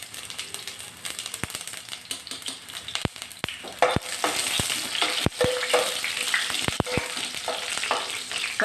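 Crushed garlic and mustard seeds fry in a tablespoon of hot oil, a close steady sizzle punctuated by sharp popping crackles and occasional spoon scrapes, fairly loud with no voices.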